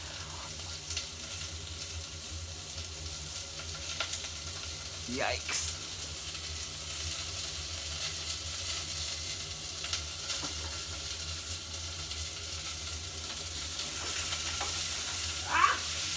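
Curry ingredients fry hard in a small Peter Rabbit pan, a steady close hiss of sizzling with a few scraping stirs, and a brief spoken exclamation partway through.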